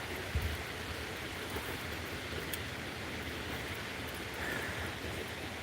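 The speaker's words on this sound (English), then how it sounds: "we're just chilling because it's raining" Rain falls outside in North Georgia, a steady, even hiss that holds at a constant level throughout with no talk.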